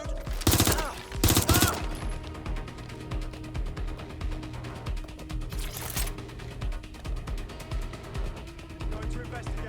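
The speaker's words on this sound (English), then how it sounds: "Shots fired!" Gunfire in Watch Dogs Legion: a couple of loud bursts near the start and another around six seconds, over a dense mechanical in-game background with voices talking throughout.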